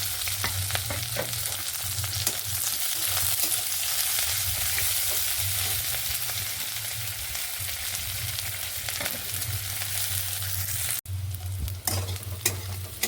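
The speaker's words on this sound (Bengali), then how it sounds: "মাছ ভাজার তেলে দিয়ে দেবো একটু কারি পাতা, তার মধ্যে দেবো কুচিয়ে রাখা পেঁয়াজ আর একটু চেরা কাঁচা লঙ্কা আর একটু আদা কুচি" Curry leaves, chopped onion, slit green chili and ginger fry in oil left from frying fish, giving a steady close sizzle with occasional stirring scrapes and a brief break near the end.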